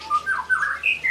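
Birds in a shared aviary cage, kept alongside magpie robins, give a quick run of sharp, close squawks and chirps, several short calls in about one second with no talk over them.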